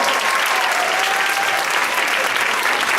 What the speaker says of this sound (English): Let's give these wonderful ladies a round of applause